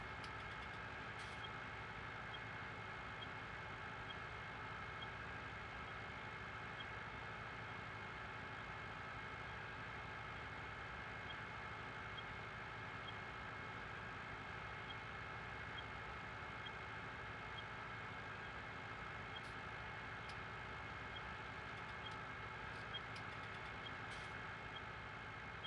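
A farm tractor in Farming Simulator 19 hauls a heavy load of fertilizer, its engine holding a steady, unbroken drone with a constant pitch for the whole stretch, no voices over it.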